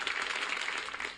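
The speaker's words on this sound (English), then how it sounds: "let's give it a round of applause one more time." A brief patter of applause, soft and steady, lasting about a second.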